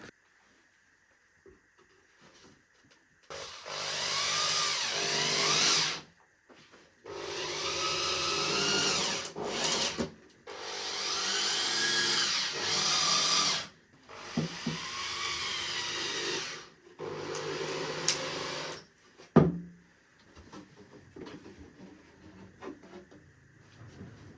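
A power drill drives screws into a compact octagonal two-seat wooden dining table, with about five loud, sustained whirring bursts separated by short silences and then a few quieter clunks at the end.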